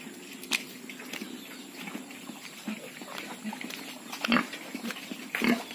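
Pigs grunt and squeal intermittently on a pig farm in Assam, moderately close, with a few louder sharp squeals toward the end over low farmyard background noise.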